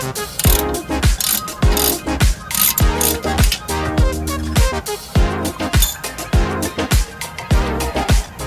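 A ratchet loosens a bolt on a car's front suspension. It gives rapid clicking bursts in a steady back-and-forth rhythm, close and loud, with no talking.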